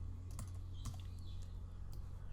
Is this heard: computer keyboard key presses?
yes